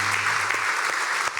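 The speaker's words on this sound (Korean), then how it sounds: "박수 한번 하도록 하겠습니다." Church congregation applauding together during a Sunday worship service, a steady dense clapping that fills the room from start to finish, with a low hum fading early on.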